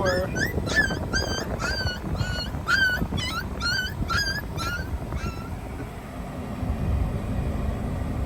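A puppy whimpers in a string of high, thin whines, about a dozen quick cries over the first five seconds against a steady noisy background.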